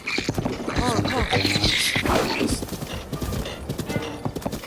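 Horse hooves clip-clop steadily in The Legend of Zelda: Breath of the Wild while a horse is ridden along a road, with a brief whinny and loud game music layered over the hoofbeats.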